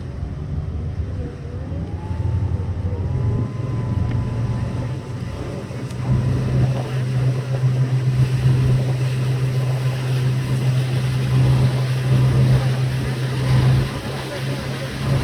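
A tour boat's steady low motor drone runs throughout on Jenny Lake, Grand Teton National Park, with water and wind noise around it and occasional voices faintly in the background.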